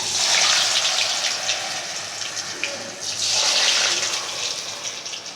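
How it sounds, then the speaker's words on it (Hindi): Potato tikka sticks frying in hot oil, a loud steady hiss and crackle that swells and eases as the sticks sizzle, close up, with no talking. "अपनी स्टिक को इसमें डाल देंगे और तमाम स्टिक हम फ्राई कर लेंगे इसी तरीके से।"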